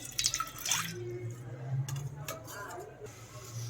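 Water splashes and trickles into a metal pot, a short close pour of a little water before adding milk for paneer, with light dripping and clinks, over a low steady hum.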